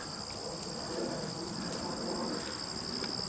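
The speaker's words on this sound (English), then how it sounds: "A lot of grasshoppers." Insects trill steadily in the grass beside a drainage ditch, a continuous high-pitched chirring with faint extra chirps over soft outdoor background, no talking.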